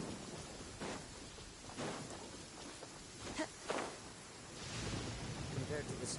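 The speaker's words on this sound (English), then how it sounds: "Compared to the storms I've encountered out at sea, this is really quite tame." Thunderstorm in the Genshin Impact video game: steady rain hiss fills the scene while several soft rumbles of thunder roll in and out, with a brief spoken line near the end.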